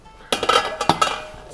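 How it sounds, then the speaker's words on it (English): A metal lid comes off a pot of boiling blackberry jam with a sharp clatter followed by a few quick clinks and scrapes of metal on metal, close and alone. "I'm gonna go ahead and take the lid off here"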